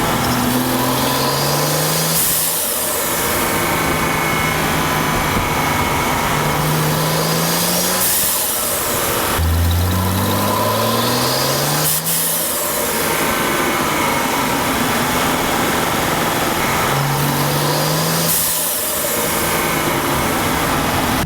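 A BMW 335 with an N55 turbo engine and a Turbosmart blow-off valve revs in several loud sweeps, each climb ending in a bright venting whoosh as the throttle closes, heard close up with no talking.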